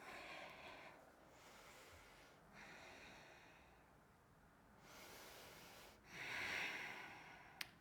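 Slow, deep breathing in a yoga pose: several long, soft inhales and exhales heard close up, each a gentle breathy rush with quiet pauses between, no talking.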